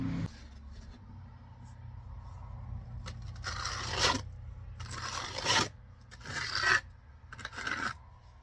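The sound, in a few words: trowel dragging mortar over stone veneer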